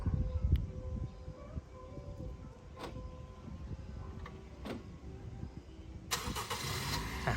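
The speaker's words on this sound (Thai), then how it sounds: "รถสตาร์ทแล้วนะครับ" A fourth-generation Honda CR-V's engine starting by plug-in remote start in Chiang Mai, with a low rumble running steadily throughout and a brighter surge near the end as the engine catches, with no talking.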